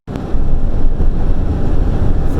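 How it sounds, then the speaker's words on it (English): Strong wind buffets the microphone in a steady, loud roar, heard roadside about a hundred miles from Albuquerque, New Mexico, with no talking. "the wind is freaking insane"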